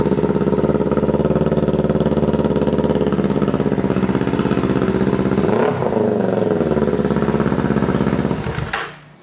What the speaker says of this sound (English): there's a hanging idle when there's no silencer on there